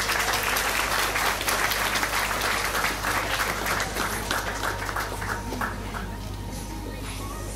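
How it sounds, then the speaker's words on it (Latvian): Steady applause from an audience at a Miss & Mister beauty pageant event, dense clapping that gradually fades somewhat over several seconds, with crowd noise and a low hum underneath. "Aplausiem skanot, lūdzu!"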